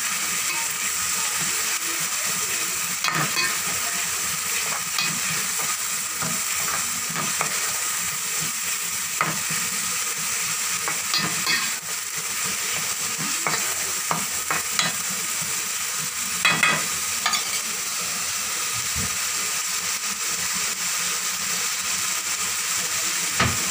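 Onion and ginger garlic paste being stirred in a hot pan for a fish curry, a steady loud frying sizzle with intermittent spoon scrapes and clinks throughout, no talking.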